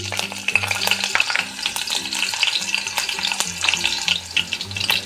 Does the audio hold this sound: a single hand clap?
no